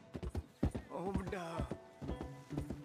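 Clip-clop of horse hooves in the game Red Dead Redemption, crossing a bridge in a steady rhythm, with a horse whinnying in the middle and voices talking faintly underneath.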